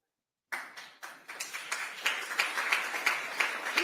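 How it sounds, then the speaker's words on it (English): A single pair of hands starts a slow clap after a moment of silence, claps spaced evenly and crisp, then gradually speeding up into a steady, closer rhythm. "started the slow clap"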